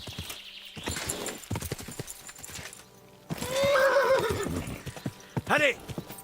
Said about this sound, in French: il est pas mal le cheval de Berg.